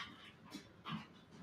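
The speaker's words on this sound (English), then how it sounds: "That's a dog." Close, quiet panting from a dog comes in rapid breathy bursts, with faint whimpers mixed in and no speech.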